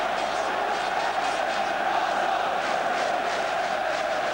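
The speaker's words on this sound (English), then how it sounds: "the goal has lifted the crowd" A football stadium crowd at an Arsenal versus Tottenham match roars after a goal, a sustained, distant mass of cheering voices with no clear peaks.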